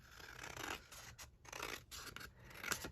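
Scissors snip through scrapbook paper in a quick series of close, quiet crisp cuts, with scratchy rustling between strokes and no talking.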